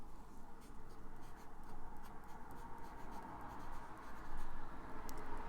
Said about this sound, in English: This is a medium nib, and let's see how it writes.